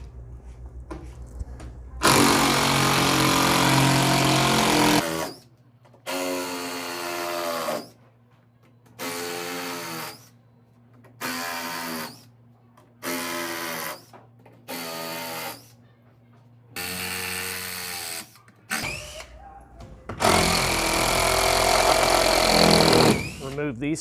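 A power screwdriver removing screws from a wooden crate, with repeated short whirring bursts between pauses and longer runs at the start and end, heard close while a person talks.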